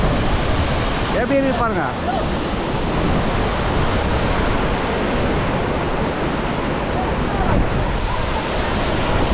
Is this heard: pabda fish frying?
no